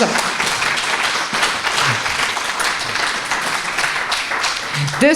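Steady audience applause at a political campaign speech for a state delegate candidate, a dense wash of many hands clapping at even loudness throughout, with no voices over it.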